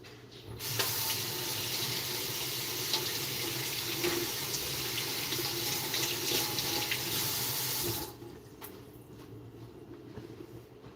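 A lever-handled sink faucet runs water steadily at close range for about eight seconds, a constant hiss and splash, then shuts off abruptly, leaving quiet room tone.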